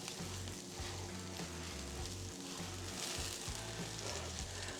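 Meatballs cooking on a griddle give off a soft, continuous sizzle and crackle, low in level and steady throughout, with a faint pulsing hum underneath and no speech.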